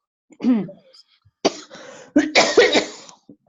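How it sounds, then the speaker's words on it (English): Several harsh coughs in quick bursts, close and fairly loud, separated by short quiet gaps with a faint breath at the end. "and I'm coughing"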